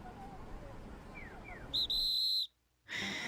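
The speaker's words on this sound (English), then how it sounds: "the whistle is indicating one of the police officers" A police officer's whistle sounds in Digimon Story: Cyber Sleuth: a quick chirp, then a loud sustained shrill blast, a short silence, and another tone over soft background ambience.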